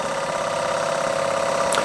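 A Bing overtype model steam engine with a slide valve runs steadily close by, giving a smooth continuous mechanical hum with a faint rhythmic chuff and no voices.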